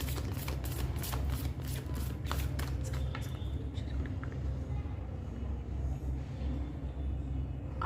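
Tarot cards are shuffled in a rapid riffle of crisp flicks during the first few seconds, then fade into a steady low room hum.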